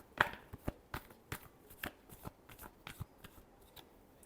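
Tarot cards are shuffled up close in a series of crisp riffling snaps and soft slaps, about a dozen quick bursts in an uneven rhythm, quiet and with no talking.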